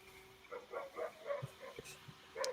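Dogs bark, yip and snarl in what may be a fight, faint and somewhat distant, in short irregular bursts with a steady low hum underneath.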